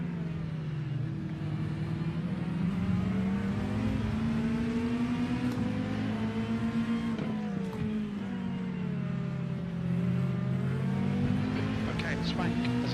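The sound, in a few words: race car engines at Road America in iRacing video game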